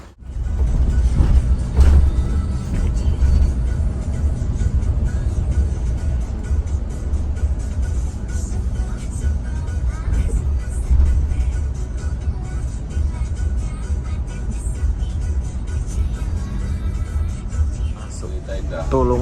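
Steady, loud rumble of an ALS intercity bus travelling a road in East Java near Tulungagung. The engine and road drone run continuously, with occasional knocks and rattles inside the cabin.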